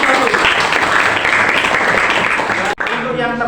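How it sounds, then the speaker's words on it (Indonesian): Classmates applaud in a classroom, a steady wash of clapping with talk over it, then an abrupt break before it picks up again. "tepuk tangan kelompok 1."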